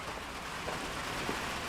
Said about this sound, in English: Maybe you can hear the rain coming down now.